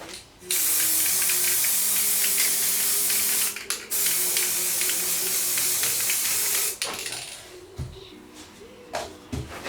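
Aerosol can spraying a coat of matte paint onto a CB radio set, with close, loud hissing bursts: one long spray, a short break, another long spray, then short puffs and handling noises.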